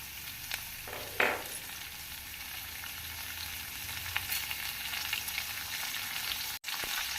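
Steady sizzling and crackling of onions, green chillies and curry leaves frying in a pan for potato fry, with a few brief stirring clinks over the constant hiss.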